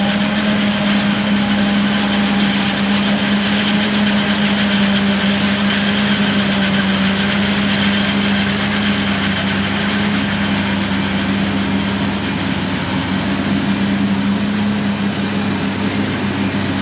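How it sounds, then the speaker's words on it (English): A corn harvest chopper engine runs loud and close, a steady heavy rumble with a strong low hum holding constant throughout and no voices over it. "let's show you the chopper coming"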